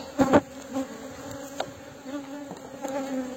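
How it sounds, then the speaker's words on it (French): Honey bees buzz at an open beehive during a varroa mite check, a close, dense hum with a few soft knocks and taps. "les abeilles, on les met au-dessus de la ruche, elles vont se nettoyer"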